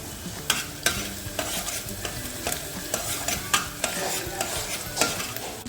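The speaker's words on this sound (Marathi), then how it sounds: "कांदा तेलात चांगला परतून घ्यायचा" Onion sautéing in hot oil for a Sangli-style kalvan, a steady sizzle broken by rhythmic scraping and clinking of a spoon stirring against the pan, close and fairly loud with no talk.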